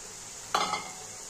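A single short scraping stir as prawns are turned into cooked-down taro leaves in a pan, a brief soft sizzle and scrape that fades quickly into quiet.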